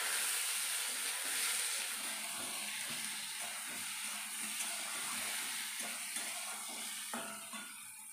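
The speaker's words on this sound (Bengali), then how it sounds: "আলু ভাজবো" Potatoes frying in a kadai on a home gas stove, a steady close hiss and sizzle running throughout with faint scattered crackles and small clinks of utensils.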